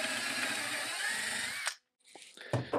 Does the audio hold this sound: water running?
no